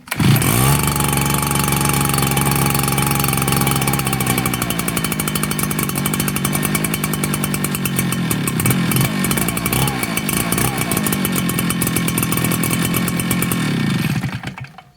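An Echo PB-8010T backpack leaf blower, just recovered from a flooded engine, fires up and runs loud and close with a steady two-stroke roar, the revs shifting partway through before it cuts off at the end.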